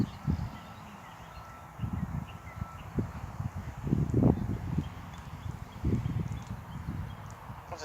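A horse's hooves thud softly and irregularly on arena footing during a riding balance lesson, muffled strikes recurring every second or so with faint rustling between them.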